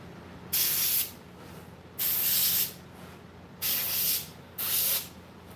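An airbrush sprays paint onto apocalypse-style masks in four short, sharp hissing bursts separated by quiet pauses, close and alone.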